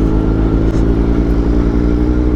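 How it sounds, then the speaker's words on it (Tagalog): Road traffic of cars and motorcycles near Marilaque highway, a loud steady low engine drone with mid-range motor buzz and a brief clatter, close and continuous with no talking. "Marami na sasakyan dito."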